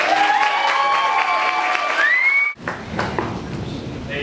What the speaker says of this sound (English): Everybody give Teresa a big round of applause.